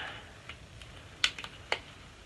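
A 70% cocoa dark chocolate bar's wrapper is torn open up close, giving a few sharp crinkles and snaps over faint rustling. No voices.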